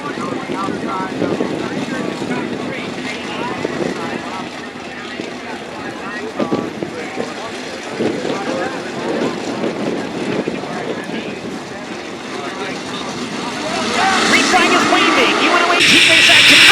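Sprint cars in a heat race at the Brad Doty Classic roar around a dirt oval as a continuous, loud, buzzing engine drone with wind buffeting and a voice over it, swelling louder toward the end as the pack passes close.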